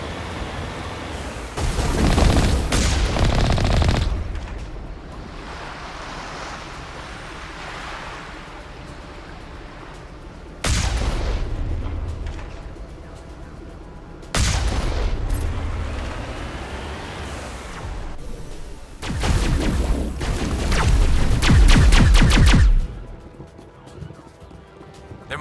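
Artillery fire in the video game Mass Effect: several heavy booming blasts with a broad rumbling roar, arriving in separate bursts over a steady low background.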